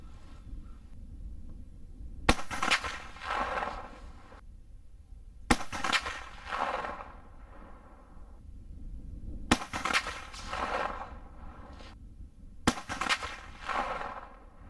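Henry Repeating Arms single-shot rifle in 45-70 fired from the prone position at a 100-yard range, four sharp loud shots spaced a few seconds apart, each trailing off in a rolling echo.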